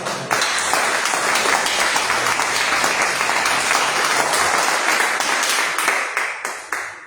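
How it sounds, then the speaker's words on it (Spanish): A church congregation breaks into loud, sustained applause during a sermon, dense clapping that holds steady and then tapers into scattered, separate claps at the close. "Merece un aplauso."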